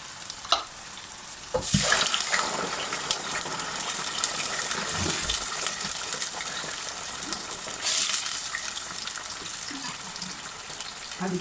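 Sauce is poured into a hot pan with chopped garlic and sizzles loudly and steadily, with a sharp hiss when it first hits the pan and a second burst later as the frying continues.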